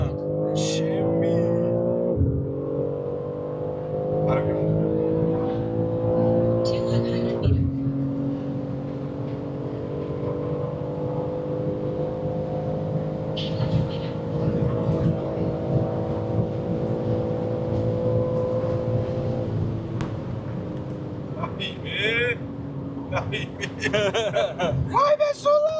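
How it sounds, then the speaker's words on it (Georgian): A stock BMW M3 CS (G80) accelerates hard with a loud, rising engine howl and quick gear shifts, the note climbing again after each change while people talk excitedly over it. "რა მაგრა აჩქარდა ჩემს? მაგარი მანქანა."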